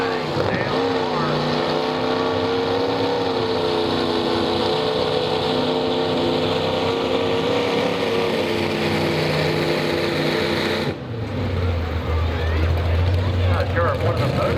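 A truck-and-tractor-pull tractor with several naturally aspirated engines roars loudly and steadily, its pitch shifting slightly, then drops briefly before a deeper rumble returns, with a voice talking over the engines.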